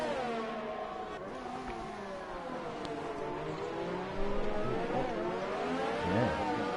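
A race car on ultra soft tyres leaves the pits in a racing video game at the Austria track, its engine a steady, whining drone that climbs and dips in pitch as it accelerates.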